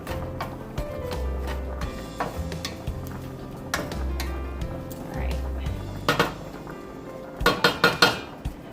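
Metal baking pans are handled in a home kitchen while turkey lasagna is being made, giving scattered clanks and clinks at irregular intervals and a quick cluster of sharper knocks near the end, over low background sound.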